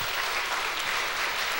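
A church congregation at a Full Gospel evangelism revival claps in dense, steady applause that fills the short stretch, with no voices over it.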